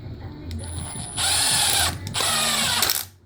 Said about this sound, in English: Now we're going to put screws in here